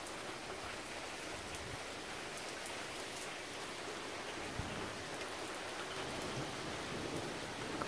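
Heavy rain from a severe thunderstorm falls in a steady, broad hiss, with faint rumbles of thunder and occasional sharper drop hits. No voices are heard.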